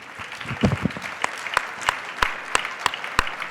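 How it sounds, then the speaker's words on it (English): Scattered, sparse applause from a luncheon audience at a legislative forecast event, a burst of clapping that thins to a few separate claps, moderately near, with no talking. "I knew that'd be an applause line."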